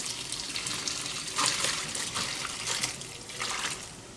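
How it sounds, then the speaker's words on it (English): Cold tap water runs and splashes steadily into a sink, a close, continuous rush with slight shifts as cooked lasagna pasta is rinsed under it. "now I'm going to take them over here and rinse them in cold water"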